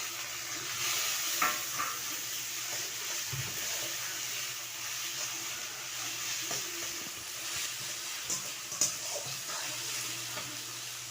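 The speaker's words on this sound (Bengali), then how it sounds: "আমার পেঁয়াজ আর টমেটোটা ভাজা ভাজা হয়ে গেছে, এবার আমি আদা রসুন বাটাটা দিয়ে দেবো।" Onion, tomato and ginger-garlic paste fry in hot oil in a pan for a Bengali tilapia kalia, giving a steady close sizzle with occasional stirring scrapes throughout.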